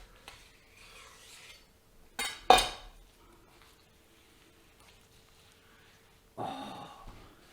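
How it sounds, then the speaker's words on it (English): A brand new knife slicing smoked brisket, two short close rasping cuts in quick succession followed by a later scraping pass, with near silence between. "Let's get out the brand new knife and slice into it and see how it looks."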